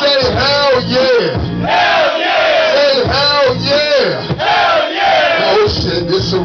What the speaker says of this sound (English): Now let me hear y'all say yeah.